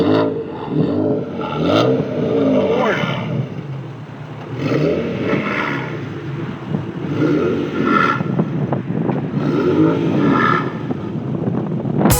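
BMW i8 hybrid sports car accelerating hard in sport mode from 0 to 30, its engine rising and falling in loud revving surges with a few brief gear-change dips, heard up close from inside the cabin.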